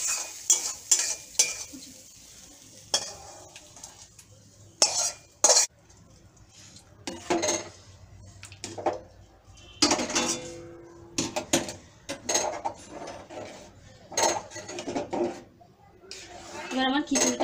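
Fried spice mix tipped into a pot of vegetarian khichuri and stirred, with scraping spoon strokes, clinks against the metal pot and a soft sizzle, coming in uneven bursts between quiet gaps.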